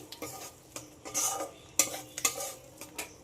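Masala sautéing in a pan with ground coriander and cumin, a spoon scraping and clacking against the metal pan in irregular strokes over a light sizzle, close and clear with no talk.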